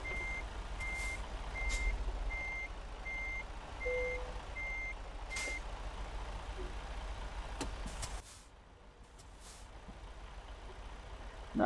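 Truck reversing beeps sound in a steady repeating series for about six seconds, moderately loud over a low idling engine rumble while a truck is maneuvered into a parking spot, followed by a brief air hiss and quieter engine hum.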